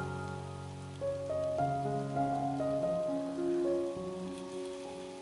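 Steady rain falls outdoors at an archaeological test pit dig, a constant, even patter heard close, with tonal sounds shifting over it.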